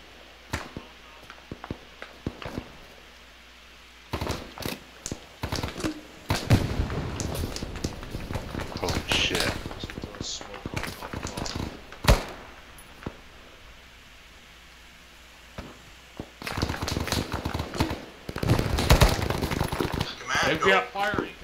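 Incoming gunfire in a military game rattles in dense, irregular bursts of sharp cracks and shots, some close and loud, others more distant. The volleys come in clusters across the stretch with people talking between them.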